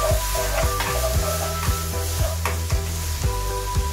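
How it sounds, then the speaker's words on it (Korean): Beef brisket stir-frying in a pan with seasoning sauce just added, with bean sprouts, wood ear mushrooms and chives in the dish. A steady close sizzle runs throughout, broken by regular scraping strokes of stirring roughly every half second. "만들어 놓은 양념을 넣어주고 양념이 전체적으로 퍼질 정도로만 살짝 볶아줍니다."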